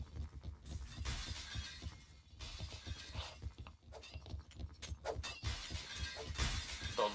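Window glass shattering repeatedly in the online shooter Point Blank, with a rapid series of sharp, loud breaking bursts and crashes, close and prominent throughout with no talk.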